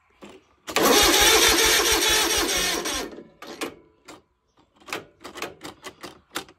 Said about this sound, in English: we're gonna try it on the old dead mower here